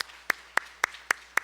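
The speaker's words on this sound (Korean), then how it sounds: "우리 큰 박수로 함께 환영하고 축복하겠습니다" A congregation at a Sunday church service welcoming new members, heard as five single faint claps spaced evenly about a quarter second apart, with no voices.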